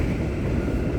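A passenger train rumbles steadily along an Indonesian line between Haurgeulis and Cirebon as it passes another train, a dense, continuous low roar filling the whole moment with no voices.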